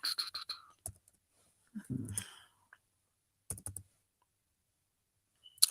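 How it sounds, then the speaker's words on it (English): Sparse bursts of computer keyboard typing: short clusters of close clicks separated by long quiet gaps. "I'm just typing my thing for Jaded right quick."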